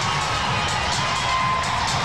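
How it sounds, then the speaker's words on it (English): A big arena crowd at the Superdome gives a standing ovation after a wheelchair basketball gold medal game, with dense, sustained cheering, whoops and shouts filling the hall. "A standing ovation by this big crowd who have stayed on here at the Superdome"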